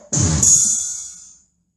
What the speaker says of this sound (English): the drum sounds, which you can select by pressing preset 1 and then preset 2.